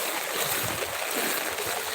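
A swollen Kannara river rushing high after the Peechi dam gates opened, a steady broadband roar of fast water, close and continuous with no voices.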